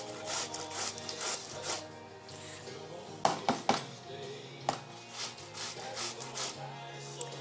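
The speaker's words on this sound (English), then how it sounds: "you can do it with the fine grater" Food rubbed over a fine grater in a kitchen, with repeated close scraping strokes in an uneven rhythm, fairly soft, with a few sharper knocks.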